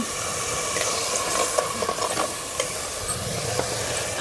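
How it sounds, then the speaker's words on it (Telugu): Close, steady sizzle of onion paste frying in oil, with a few soft spatula scrapes and pops, no voices. "బాగా ఆయిల్ పైకి తేలే వరకు అయితే వేపుకుందాం"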